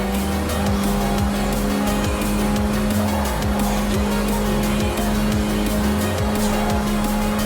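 Race cars and hypercars tear through streets lined with spectators in Forza Horizon 4, with loud, steady engine drone, repeated tire squeals and skids, and crowd noise filling the background throughout.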